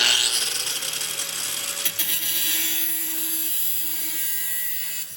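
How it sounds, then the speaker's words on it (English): Angle grinder cutting iron for an ornamental gate, a steady loud high-pitched whine with sustained hissing grind that holds continuously throughout, faintly tapering at the close. "And again, my handy dandy little angle grinder,"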